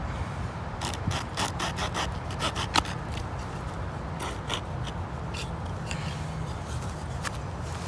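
A multi-tool saw cuts wood for a bow drill fire set, producing rough rasping strokes in irregular bursts close by over a steady outdoor background.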